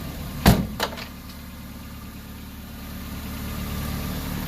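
A 1986 Toyota pickup engine idles with a smooth, steady low hum. Two sharp knocks or clunks come near the start, and then the idle runs on alone.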